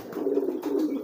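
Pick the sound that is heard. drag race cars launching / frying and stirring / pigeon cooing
pigeon cooing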